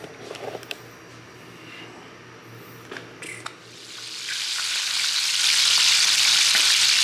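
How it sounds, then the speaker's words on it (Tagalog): A few clinks and handling sounds, then a loud, steady sizzle of food frying in hot oil builds up and keeps crackling. "Kaya magpirito tayo ngayon."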